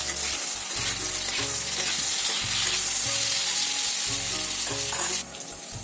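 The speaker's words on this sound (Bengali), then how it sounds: "পটল ভাজি বসিয়ে দিয়েছি।" Pointed gourd (potol bhaji) fries in a pan with a loud, steady, close sizzle and occasional stirring pulses, easing slightly at the end, with no voices.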